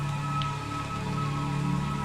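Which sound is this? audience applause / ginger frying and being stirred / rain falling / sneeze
rain falling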